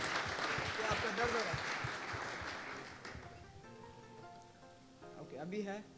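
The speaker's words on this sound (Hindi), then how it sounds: "आइए जोरदार तालियां खुदा के जलाल के लिए बजा दीजिए" A church congregation claps in a dense, rain-like burst of applause that gradually thins and fades, with a voice speaking over the end.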